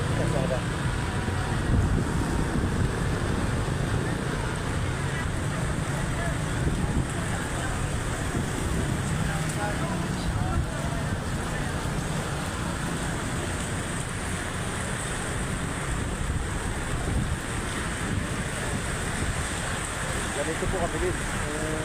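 Fast-rising typhoon floodwater rushes through Marikina near Marcos Bridge as a constant roaring wash with heavy wind buffeting on the microphone, while someone talks intermittently over it.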